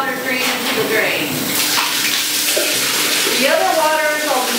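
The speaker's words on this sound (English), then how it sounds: "And let that water drain into the drain." Rinse water from milking hoses and filters drains steadily into a parlor floor drain, a loud continuous splashing and gurgling rush with a voice talking over it.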